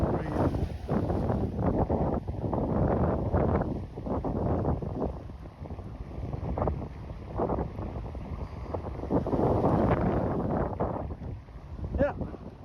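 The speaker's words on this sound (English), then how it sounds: "And even here the waves are big." Storm waves breaking at the entrance of the harbor of Calafell, heavy repeated surges and crashes under strong gusting wind buffeting the microphone, loud and close.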